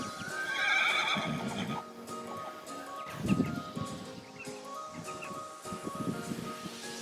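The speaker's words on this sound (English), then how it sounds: "Here you can see our teaching horses out in pasture." Horses in a pasture give a loud whinny early on, followed by softer snorts and movement sounds, with birds faintly in the background.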